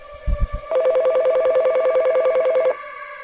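Telephone keypad tones ring out in a quick, even run of dial beeps for about two seconds, loud and close, after a few soft thumps at the start.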